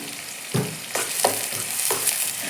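Food frying in a pan with salt added, for a ragi mudde and dal sambar home meal; a steady sizzle with several stirring scrapes at intervals, no voices.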